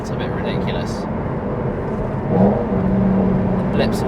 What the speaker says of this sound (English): a small acceleration, a bit of V8 noise